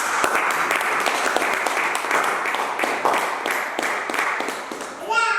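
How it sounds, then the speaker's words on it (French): A church congregation claps in a steady, rhythmic beat during a worship service, filling the space with dense applause while voices carry along underneath. "Acclame Jésus, acclame les saints"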